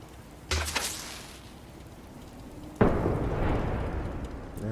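Stormy weather in the Fallout 4 wasteland, with a sudden loud thunder crack followed by a long rumbling roll and steady rain-like hiss.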